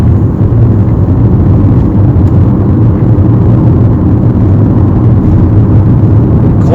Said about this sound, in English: clutch, fourth gear, accelerating some more, clutch, fifth gear